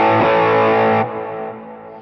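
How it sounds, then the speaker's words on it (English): An electric guitar palm-mutes through a distortion pedal, giving a loud, thick, saturated chug that sustains and then drops to a quieter, darker ringing tail. "That has become my new favorite palm muting tone."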